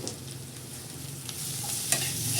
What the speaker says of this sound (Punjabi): ਇਹਨੂੰ ਆਪਾਂ ਹੁਣ ਥੋੜਾ ਜਿਹਾ ਜਿਹੜੀ ਹਲਦੀ ਹੈ ਕੱਚੀ ਨਾ ਰਵੇ ਮੱਕੀ ਤਰ੍ਹਾਂ ਭੁੰਨ ਲੈਣਾ